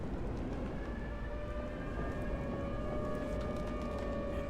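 A steady, rising-and-falling siren wail drones continuously in a Minecraft tornado survival game, heard against a loud rushing wind roar with no talking.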